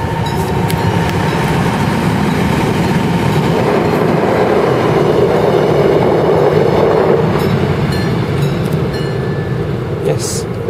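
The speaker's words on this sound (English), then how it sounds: "the train is arriving." A train arriving at a station in Korea rumbles past nearby, a loud continuous roar with rhythmic clatter of wheels on rails and faint high squeals.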